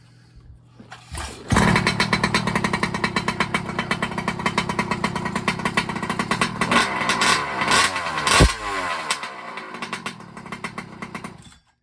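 A 46cc gas engine on an RC monster truck catches after a single pull and runs steadily, loud and close, with a buzzing, chainsaw-like drone that surges briefly near the end.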